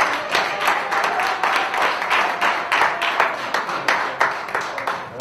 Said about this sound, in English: come on, y'all, another round of applause.